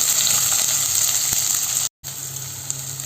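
Sliced onions and dried chillies sizzle loudly and continuously in a pan for a Kerala-style lunch, with faint stirring and a brief dropout to silence partway through.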